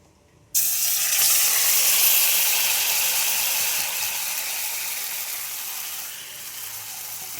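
Pointed gourd (potol) hits a hot pan with a sudden loud hiss that becomes a steady, strong sizzle and slowly eases off.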